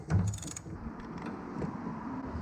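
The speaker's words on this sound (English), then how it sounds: "Using a 1 1/8 socket for this back nut right here." A 1 1/8 socket wrench works a brake nut on a Harley Dyna, giving a short mechanical clicking and grinding close by, followed by a low hum.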